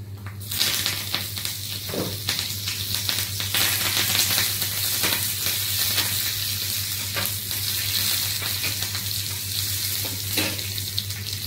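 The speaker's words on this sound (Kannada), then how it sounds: "ಚಟ್ನಿ ಒಗ್ಗರಣೆ ಎಂದು ಪಾಡುವಂದಿದೆ" Spices for a chutney tempering fry in hot oil, giving a steady, close, crackling sizzle with scattered pops and a low hum underneath, and no voices.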